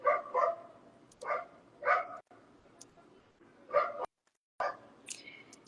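Neighborhood dogs bark in short bursts of two or three yaps with pauses between, fairly near and loud, with a brief higher yip near the end.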